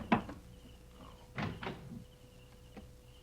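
A door is opened with a few knocks and thunks: one sharp bump at the start, then a louder pair of clunks and a lighter tap later.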